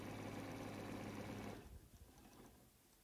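A sewing machine stitches a seam on fabric for a rabbit-shaped mug rug, a fast steady mechanical hum and rattle that stops after about a second and a half, leaving faint handling sounds.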